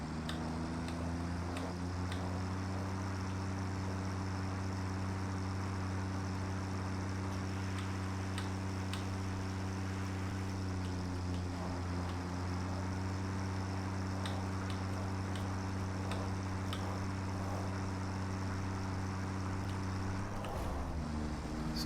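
Generators in the video game Satisfactory running on solid biofuel give off a steady, loud, continuous low engine hum with layered harmonic tones. The hum holds level throughout, then shifts briefly near the end.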